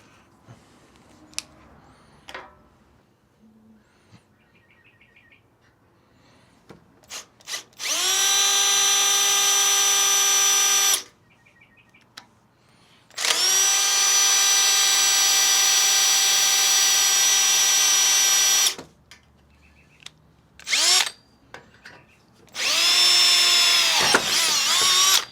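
Power drill boring a bolt hole for mounting a 9-inch round off-road LED driving light, three long loud whining runs separated by pauses and short bursts, with no talk.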